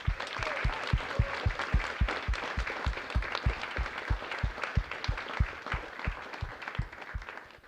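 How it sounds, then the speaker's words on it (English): Steady round of applause from a TEDxQUT 2021 audience, dense clapping with a rhythmic thumping beat running underneath, sustained for several seconds at moderate level with no talk. "So I'd like everyone to give our first 4 speakers another round of applause."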